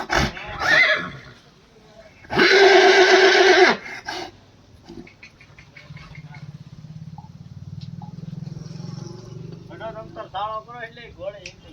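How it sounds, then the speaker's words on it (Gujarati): A stallion gives one loud, close, sustained neigh lasting about a second, with a brief earlier call, followed by lower rumbling background noise and some voices. "હા ઘોડો."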